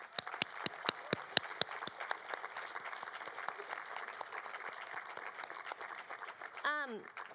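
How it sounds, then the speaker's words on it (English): A college convocation audience applauds the seniors with sustained clapping, a few sharp claps standing out near at first, and a voice briefly rises at the end. "please give these seniors one last round of applause"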